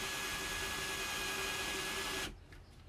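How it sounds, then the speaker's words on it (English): A steady, high-pitched motorized whine of a drill boring through brittle metal in a car's fuel system runs for a couple of seconds, then stops abruptly as it breaks through, leaving faint background noise. "Should all drill out pretty easily."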